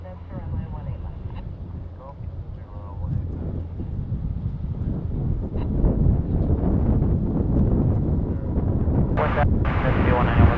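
A Saab turboprop departs at DFW International Airport, its engine roar building steadily and growing louder toward the end over wind buffeting the microphone.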